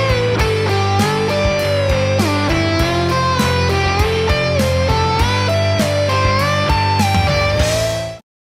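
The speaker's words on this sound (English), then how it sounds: "We're going to use a combination of bends and tap notes," An electric guitar plays a short lick of string bends combined with tapped notes, clear pitch glides and sharp attacks in a quick, even rhythm, ending abruptly.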